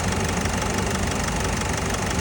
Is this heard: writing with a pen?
no